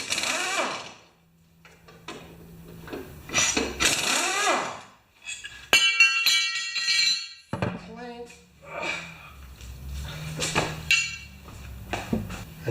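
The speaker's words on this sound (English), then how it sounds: "So let's get this blade off of here. 14 millimeter, of course." A 14 mm wrench works loose the blade bolt on a Honda HRA214 lawn mower, with metallic clinks, ratcheting and scraping in short bursts, close by, between quiet gaps.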